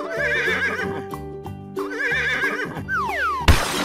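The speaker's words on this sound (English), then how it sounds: "Horse." A horse whinnies in a shrill, quavering neigh over a cartoonish musical backing, with hoof clip-clop and a sweeping sound effect near the end.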